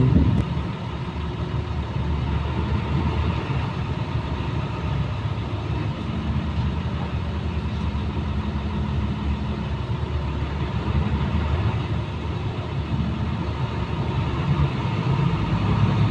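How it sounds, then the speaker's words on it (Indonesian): A Bagong Patas express bus moving off slowly, its mid-pitched engine droning steadily and close for a long stretch with a constant low rumble and road noise, no voices. "kemudian bus kembali melaju dengan pelan."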